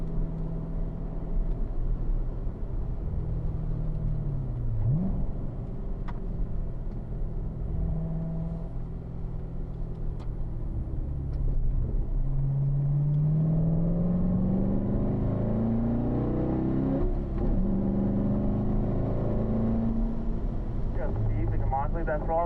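On a race track, a Chevrolet Corvette engine drones and then climbs in pitch as it accelerates, loud and steady, with a voice talking over it.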